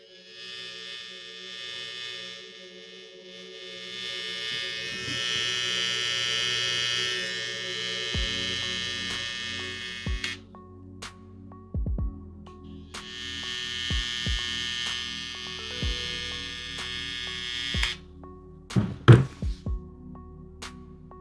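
A Kemei 1855 brushless hair trimmer, rated at 7200 RPM, runs in two bursts of high-pitched motor buzz with a steady hum underneath, followed by several sharp knocks and clicks as it is handled.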